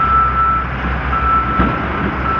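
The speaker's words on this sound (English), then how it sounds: "Now this truck is moving." A New York City sanitation truck moves on a snowy street, its engine rumbling loud and close beneath a steady, repeating high reversing beep.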